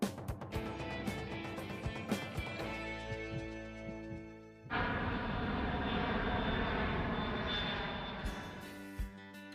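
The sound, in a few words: airplane engine at an airport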